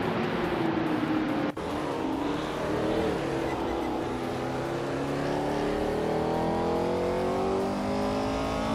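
A 1970 Porsche 917 LH racing car in a video game howls at high revs, its engine pitch climbing steadily through the gears, loud and continuous throughout.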